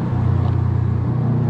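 A Subaru WRX STI with a stage 2 tune, its engine revving in a steady, loud, close drone with a rumbling exhaust, held for a brief moment without distinct pops standing out.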